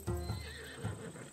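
A horse whinnies in Assassin's Creed Odyssey, a short rising neigh followed by soft clip-clop hoofbeats, fairly close and clear with no talking over it.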